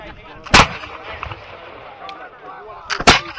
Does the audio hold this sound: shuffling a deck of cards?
no